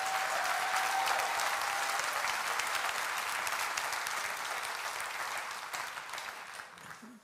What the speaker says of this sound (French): Donnez une main d'applaudissement à Jésus pour ça.